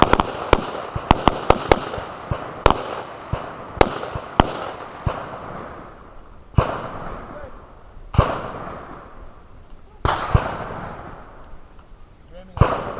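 Gunshots from carbines and pistols at a shooting class, a rapid volley of sharp, loud cracks followed by more spaced single shots with echoing decay, all close and dominating the scene.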